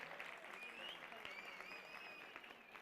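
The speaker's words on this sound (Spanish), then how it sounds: "Lo que viene siendo aplausos sin miedo, ¿sabes?" Audience applause at a technical audiovisual conference: steady, fairly faint clapping from a crowd that keeps up evenly throughout, with a few whistles on top.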